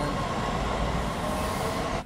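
A moving train in the Hitman 3 video game gives a dense, steady rumble of wheels and carriage noise that stays even, then cuts off abruptly at the end.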